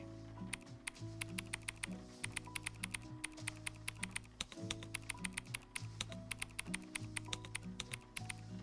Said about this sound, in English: So this is just my virtual keyboard and it actually has different sound packs.